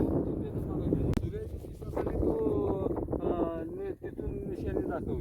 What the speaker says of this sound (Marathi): ह्या बाजूला वारा बघा